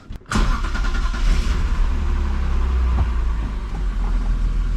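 A BMW E36 drift car engine cranks briefly and catches, then settles into a loud, steady idle close by.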